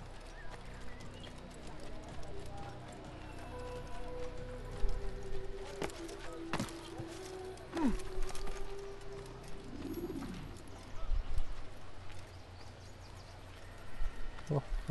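Birds coo and call in the Assassin's Creed video game, with hooves clip-clopping nearby and occasional whistling calls over a quiet ambient background while people talk.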